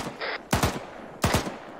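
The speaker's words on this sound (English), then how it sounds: "It's shots from down the road to the west." Distant gunfire from down the road in a military squad-training video game comes as two short bursts of quick shots, faint and echoing, about a second apart.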